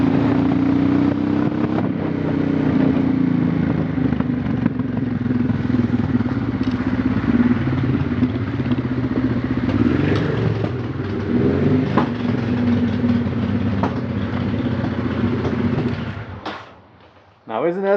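Honda Transalp motorcycle engine running steadily on a test ride with a custom fuel pump system fitted to an Africa Twin tank, a continuous loud drone with wind noise that cuts off abruptly near the end.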